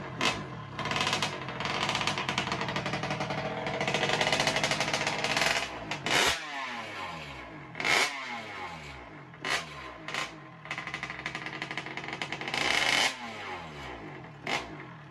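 A cheap 50cc motorbike engine runs and vibrates hard, a buzzing rattly drone that rises, then breaks into repeated revving bursts and rough idle sputters over about fifteen seconds, with no talking.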